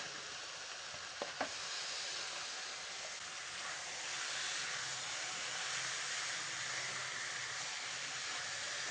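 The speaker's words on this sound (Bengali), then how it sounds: "এই পর্যায়ে মাংসগুলো দিয়ে দিলাম।" Medium-sized beef pieces dropped into a hot pan of cooked-down spice masala for a Bangladeshi beef and cabbage curry, a steady close sizzle and hiss with a couple of sharp clicks near the start.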